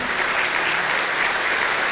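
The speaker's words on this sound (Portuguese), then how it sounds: "vamos dar uma salva de palmas, gente" A church congregation applauds together, a dense, even wash of clapping that stays loud and steady from start to finish.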